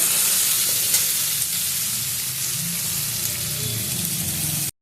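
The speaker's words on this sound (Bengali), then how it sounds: "বেগুন আর আলুটা খুব ভালো করে ভাজতে হবে" Eggplant and potato fry in a pan over a dry red chilli tempering with a steady, even hiss and sizzle that carries on without a break, close and fairly loud, no voices.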